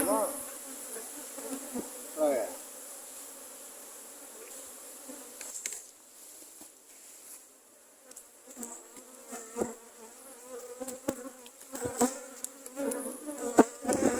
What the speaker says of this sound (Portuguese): A quantidade de abelha aqui é bem maior.